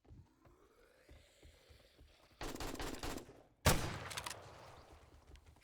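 Gunshots in 7 Days To Die: after a quiet stretch of faint background noise, one loud burst of fire hits, followed a second later by a sharper, louder blast that fades out.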